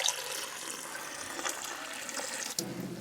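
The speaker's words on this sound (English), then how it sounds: "I'm just going to squish a tea bag in some cold water." Continuous watery swishing and trickling as a tea bag is squished in cold water, a steady close wash of liquid noise with a small splash near the end and no talk.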